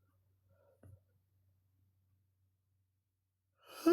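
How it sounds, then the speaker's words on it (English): A man yawns close by, with a faint breathy sound early on and a short soft murmur near the start, then a loud drawn-out yawn at the end, with nobody speaking. "quit yawning"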